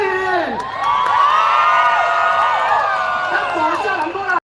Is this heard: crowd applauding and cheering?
yes